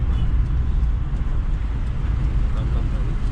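Hyundai Santro Xing hatchback cruising in third gear, a steady low engine drone and road rumble from inside the cabin, continuous and fairly loud with no clear speech.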